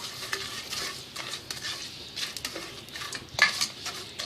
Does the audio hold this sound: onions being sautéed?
yes